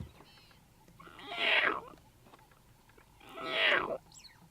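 A man imitates the meowing call of young lion cubs with two drawn-out, strained vocal calls separated by a pause, loud and close, out in the wild.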